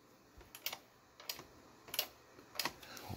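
Safety switch on a Ualau ceramic space heater clicking as its pressure plate is pressed and released: four separate sharp clicks spaced roughly evenly over a few seconds, close and fairly quiet against a faint background hiss, with no talking.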